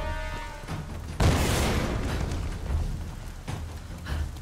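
An explosion in the Tomb Raider video game booms suddenly about a second in, followed by a rumbling burst that fades under low game ambience.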